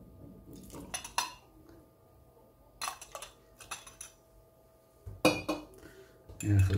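Small spoons stir a drink mixture in a dish, giving scattered clinks and scrapes against the container in short clusters with pauses between, close and clear, and no one talking.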